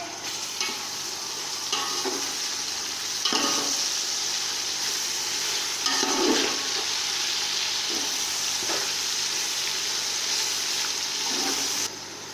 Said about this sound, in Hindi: अब हम इसमें टमाटर डालेंगे। इन्हें थोड़ी देर हम फ्राई करेंगे।